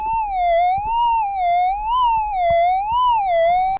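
Metal detector tone sounding over a possible gold nugget in a dug spot between hydraulic mining pits, a steady warbling electronic whine that rises and falls in slow waves, loud and close with faint scraping underneath.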